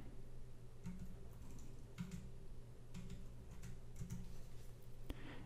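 A verification code is typed on a computer keyboard: a handful of faint, sparse key clicks spaced irregularly over quiet room noise, with no speech.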